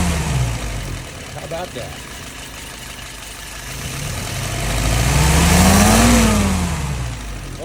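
A car engine fitted with a Ford YF carburetor idles, then is revved twice in smooth climbs and falls, loud and near, with a voice briefly speaking over the start.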